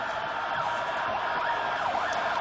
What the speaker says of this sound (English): The ambulances blaring behind me.